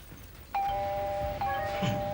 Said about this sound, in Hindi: घंटी बज गई, भागे।